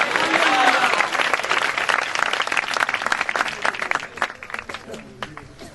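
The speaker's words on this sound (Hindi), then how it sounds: "जोरदार तालियां जब तक का खत्म बैठने ताली बजनी चाहिए।" Loud applause from a church congregation, dense and sustained at full strength before thinning slightly toward the end, with some voices mixed in.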